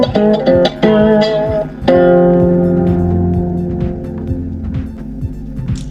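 Bluesy riff picked by thumb and finger on a fretless four-string cigar box guitar in DGBD tuning, a few quick plucked notes then a long ringing chord that slowly decays, close and alone.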